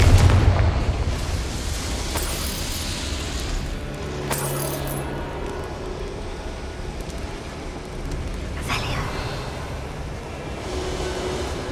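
A Confringo fire spell detonates in Hogwarts Legacy, opening with a loud blast that fades into a rumbling, crackling tail with further bursts later on.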